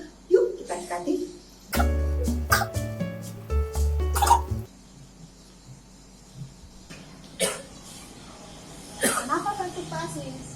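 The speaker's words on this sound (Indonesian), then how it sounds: "Siapa yang batuk?" A few short coughs from a man with influenza ring out, close and separated by pauses, mixed with some speech.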